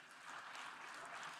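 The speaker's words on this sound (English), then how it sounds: "Round of applause." Audience at an IUCN Africa Protected Areas Congress applauds softly and steadily, a distant wash of many hands clapping without a break.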